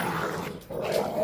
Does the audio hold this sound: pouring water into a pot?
no